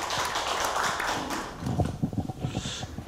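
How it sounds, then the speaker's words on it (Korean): An audience at a union political committee's election-review debate claps to welcome the next speaker. The applause is brief and sparse, a scatter of separate claps toward the end after a burst of broad noise. "박수로 청해 듣겠습니다."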